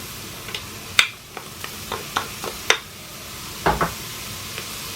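Onion dropped into a warmed pan while cooking Ethiopian lentil sauce, giving a quiet sizzle broken by sharp crackles and pops spaced irregularly over a few seconds, with no talking.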